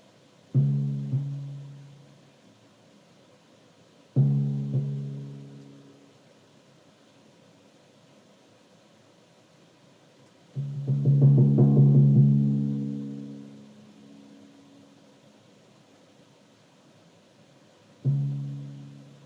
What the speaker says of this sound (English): it starts off with a timpani solo, and it sounds like this